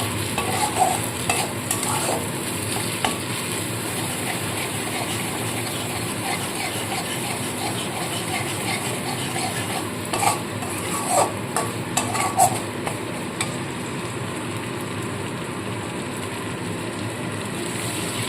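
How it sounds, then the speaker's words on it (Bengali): Water is added to well-fried masala for stuffed pointed gourd and stirred, with a steady close sizzle running throughout and scattered scrapes and clinks of the spoon against the pan. "মশলাটা কিন্তু ভালো মতো কষে গেছে তো এইবার এখানে আমি পরিমাণ মতো জল দিয়ে দেবো"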